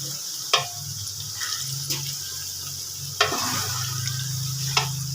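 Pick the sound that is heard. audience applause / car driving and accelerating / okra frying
okra frying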